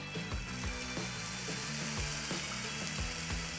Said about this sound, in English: Can you hear the rehydration of all that meat and protein be rehydrated?